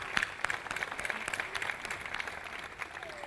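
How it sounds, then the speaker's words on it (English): Audience applause at a university convocation, a soft, steady patter of many hands clapping at a distance, moderately faint and continuous throughout, with no voices over it. "can we have a round of applause for"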